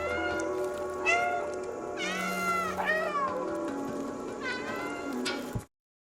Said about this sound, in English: You also have a dedicated meow button